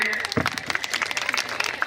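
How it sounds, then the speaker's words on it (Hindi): Audience at a large women's empowerment event in Uttar Pradesh breaks into brief applause for a woman, a short burst of claps mixed with voices. "इनके लिए जोरदार ताली बजाइए।"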